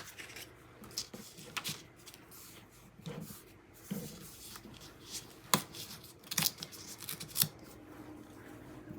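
Paper for a holiday planner notebook being cut along a straight edge, heard as quiet scattered scratchy slicing and rustling strokes with a few sharper snips, close and soft, no talk.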